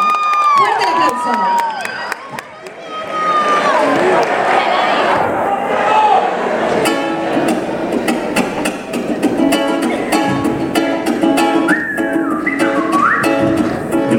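A crowd at a singing event cheers, whistles and claps loudly for a singer after his song, with sharp whistles and shouts over continuous applause and lively crowd noise.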